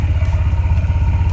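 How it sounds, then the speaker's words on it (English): A Honda PCX 160 scooter idles close by with a steady, even low putter and a soft rhythmic pulse, no voices over it. "Here you go, it's already turned on"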